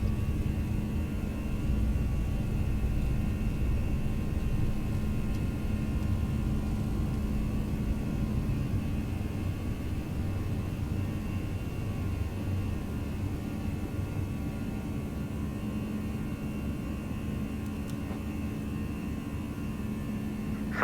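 Simulated ToLiss A319 airliner engines in X-Plane 11 during a takeoff roll, a steady loud rumbling roar with a constant hum throughout, with no speech.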